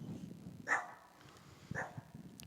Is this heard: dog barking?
yes